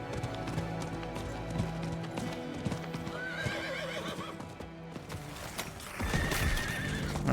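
A horse in the Diablo 4 video game neighs and whinnies over steady clip-clopping hooves while riding, with game music running underneath.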